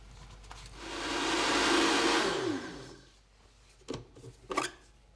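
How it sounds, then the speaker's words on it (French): Blender whirring through an oat milk soup base, rising to a steady roar for about two seconds and winding down, followed by a few clunks. "On va mixer une nouvelle fois."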